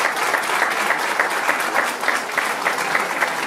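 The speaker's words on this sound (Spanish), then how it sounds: "Fuerte el aplauso para ella, Catalina Martinoli." Audience applause at a women's tribute event in education, dense steady clapping from a crowd that holds evenly throughout, fairly loud with no voices over it.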